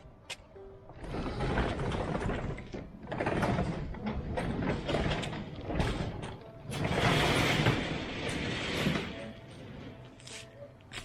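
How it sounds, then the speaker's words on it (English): A large roll-up garage door rattles and clanks upward in several bursts of metallic rolling and grinding, loud and close, with brief pauses between pulls. "Let me pull this door up."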